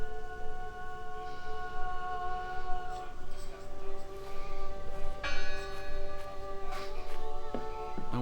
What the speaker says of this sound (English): The bell's still ringing. Let's check inside the church.